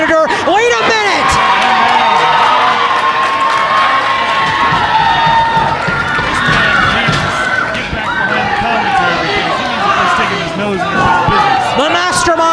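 A loud wrestling crowd cheers and shouts continuously at a pro wrestling event, whoops and yells layered into a dense roar with a commentator talking over it.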